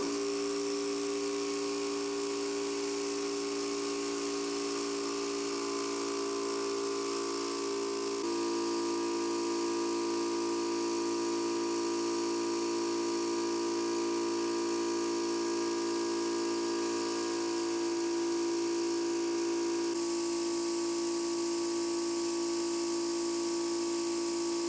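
Central Pneumatic 21 gallon vertical air compressor running on its first start-up, a loud steady motor hum and whine with a sustained hiss, shifting pitch at a couple of points as it keeps running close by.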